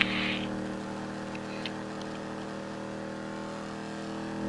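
A Ford Mustang cruises at speed on the road, its engine droning in a steady low hum with tire and wind noise from inside the cabin, and a brief click near the start.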